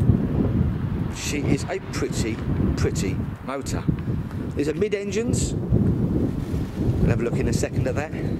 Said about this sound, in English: I apologise for the wind.